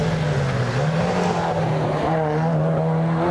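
Reese Malden's Datsun race car at the Legend of the Lakes hillclimb, its engine droning steadily at a held pitch, then dipping and climbing again as it drives past, loud and continuous with no voices.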